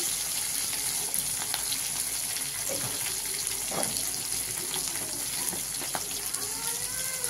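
Shrimp fry in a pan with a soft, steady hiss and light spattering, a faint continuous sizzle with small pops and scrapes.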